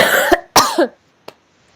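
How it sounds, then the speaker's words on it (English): Two short coughs close together, followed by a faint brief throat sound, then quiet. "you had a little cough just like that."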